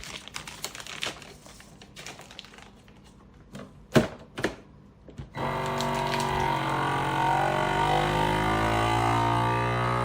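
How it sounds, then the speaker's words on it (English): A vacuum sealer sealing cold smoked cheese in a vacuum bag: scattered clicks and taps as the bag is positioned, then a loud, steady motor drone starts partway through and runs on close by. "I'm going to go ahead and slip them into that vacuum sack. And I'm going to go ahead and seal them up."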